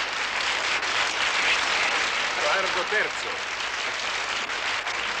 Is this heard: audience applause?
yes